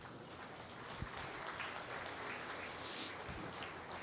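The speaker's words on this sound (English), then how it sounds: "give these young kids a nice round of applause" Steady applause from a crowd at the Northeast Summer National Holstein heifer show, rising after youth exhibitors line up their heifers head to toe; even, moderately distant clapping with no talk.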